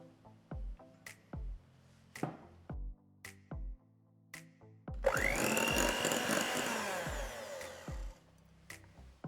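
Egg yolks are whisked for a peach cake batter: scattered taps and clinks at first, then a loud, continuous whirring beat that runs steadily for several seconds before the sound drops away.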